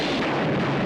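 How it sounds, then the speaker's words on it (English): An explosion in a burning city erupts as a short, dense, loud blast filling the whole moment with a rumbling roar. "It was unrelated to the explosion."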